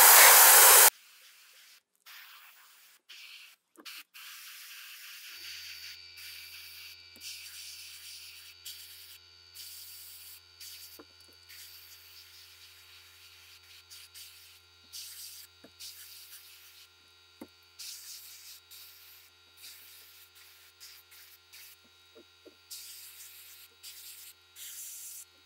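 An airbrush sprays a white base coat onto a wooden flat-sided crankbait, producing a soft airy hiss in repeated short and longer bursts over a low steady hum, close and fairly quiet, with no voices.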